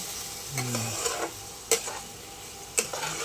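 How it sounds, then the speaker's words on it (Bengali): Spices are stirred into potatoes and cauliflower in a sizzling pan, a steady frying hiss broken by a few sharp scrapes and clinks of a utensil against the pan, close up and without talk. "এই হয়ে গেছে আলুর সাথে ফুলকপির সাথে মশলাটা মাখানো"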